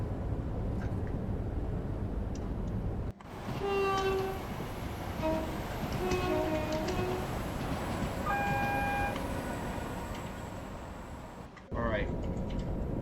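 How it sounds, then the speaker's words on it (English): A Class 710 Aventra electric train in a train simulator on the Watford DC Line, with a steady rolling rumble, rising whine tones and brief horn-like notes, under a continuous running hum. "And I also really like the sounds of the Aventra."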